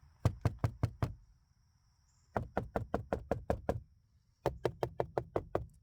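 Knuckles rap rapidly on a rattly plastic car door panel in three bursts of quick knocks, the thin plastic giving a slightly rattly, resonant thud.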